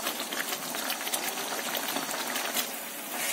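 Sweet vermicelli simmering in sugar syrup with ghee in a pan, a continuous close bubbling and sizzling hiss with crackly pops, steady and moderately loud throughout.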